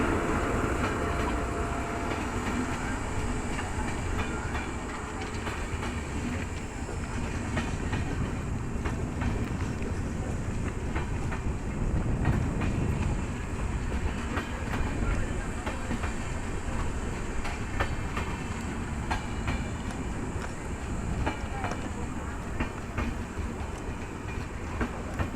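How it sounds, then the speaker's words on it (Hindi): Sarnath Express train running past a small station, a steady loud rumble and rail clatter filling the whole stretch without any talk. "सुबह की पहली इम्पॉर्टेंट ट्रेन है ये, जो यहाँ इस छोटे से स्टेशन सातवार में रुकती है।"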